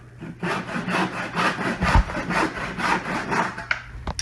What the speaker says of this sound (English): you can actually line your mark up right with the kerf line and cut it